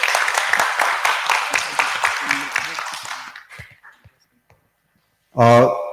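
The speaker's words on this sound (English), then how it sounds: "you better just give yourself a round of applause, for reaching this level." Finalists and the audience at a quiz competition final applaud themselves. Brisk clapping lasts about three seconds, then thins out into scattered claps and silence before a loud voice cuts in at the end.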